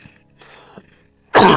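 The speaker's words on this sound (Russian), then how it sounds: "Извините за кашель." A single sharp, loud cough bursts out near the end after a stretch of near silence broken by faint movement.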